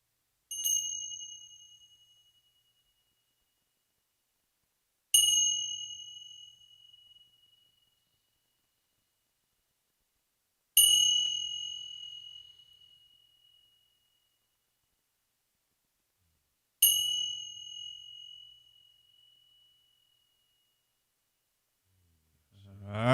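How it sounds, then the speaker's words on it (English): Meditation chimes struck four times at slow, regular intervals, each a clear bright ring that decays over a couple of seconds in an otherwise quiet room. "We're going to do it with these chimes right here"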